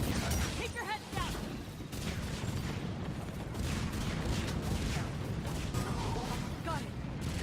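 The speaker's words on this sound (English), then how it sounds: "Watch out, artillery." Artillery fire in the Mass Effect 3 video game booms and crackles in dense, continuous bursts of explosions and gunfire, loud and sustained throughout, with no clear pause.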